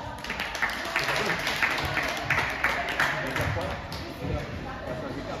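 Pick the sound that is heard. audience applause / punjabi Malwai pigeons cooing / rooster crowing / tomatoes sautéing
audience applause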